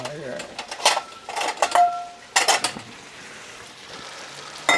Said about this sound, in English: That's deep frying.